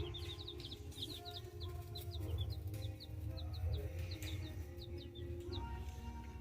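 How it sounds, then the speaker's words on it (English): Chickens cluck in short, repeated chirpy bursts at a Tractor Supply farm store, close by, over a steady low hum of store background noise. "They have chickens here."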